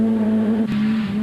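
The Team Total Toyota Corolla rally car in Class A7 drives close by, its engine holding a loud, sustained note that dips briefly midway before carrying on.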